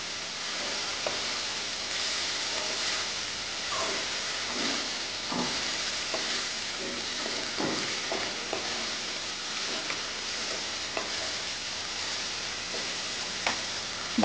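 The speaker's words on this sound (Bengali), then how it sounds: "এই যে আলু আর পেঁয়াজটা ভেজে রেখেছিলাম এটা দিয়ে দেবো। দিয়ে ভালো করে এটা নেড়ে নেব।" Potatoes and onions being stirred in a hot pan while cooking muri ghonto give a steady, close hissing sizzle broken by scattered scraping clicks of the spoon, with no talk.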